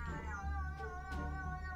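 A cat lets out a drawn-out, wavering meow with a strained, yowling tone, close and fairly clear over a low background hum.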